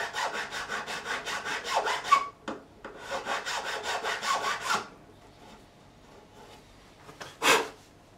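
A guitar nut clamped in a vise has its edge cut with steady, rhythmic rasping strokes, about a dozen close, even passes followed by a pause, a few scattered scrapes and one last loud stroke.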